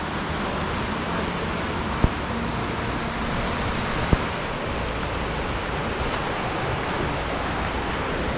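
A river flows nearby in Oregon, giving a steady, dense rush of water that holds even and loud throughout, with two faint clicks along the way.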